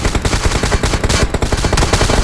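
Rapid, loud gunfire in a PUBG Mobile battle royale match rattles without pause for about two seconds in a dense, continuous burst.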